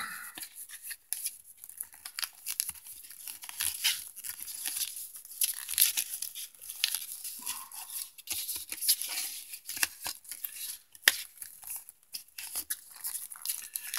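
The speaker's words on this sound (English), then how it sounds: "I take a piece of tape, throw it on there like that." Tape is pulled and pressed onto a small homemade fire log, making a run of crisp, close tearing and crinkling bursts at an irregular pace with no talk.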